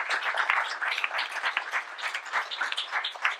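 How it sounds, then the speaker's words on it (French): An audience at a round-table discussion applauds, a dense steady clapping that continues throughout at moderate level. "je pense qu'on peut les applaudir parce que vraiment."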